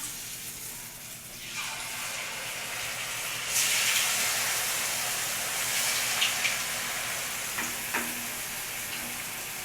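Chicken 65 frying in hot oil, a steady broad sizzle and hiss that swells louder partway through with a few sharp pops, heard close with no talking.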